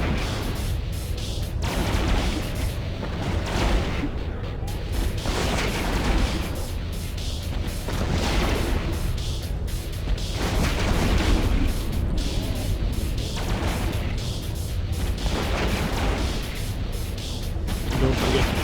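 Ship guns in the space game Eve Online fire in a dense, continuous barrage of booming bursts that rise and fall in waves, loud and unbroken throughout with no voices.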